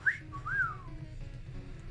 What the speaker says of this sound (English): Well, she whistles at you.